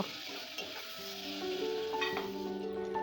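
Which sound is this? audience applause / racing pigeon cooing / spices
spices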